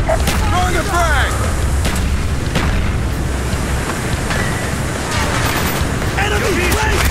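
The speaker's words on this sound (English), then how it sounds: "Throwing the frag!" A frag grenade blast amid heavy gunfire in the Call of Duty: Black Ops campaign, loud continuous battle noise with scattered bursts and booms, shouting voices cutting through the din.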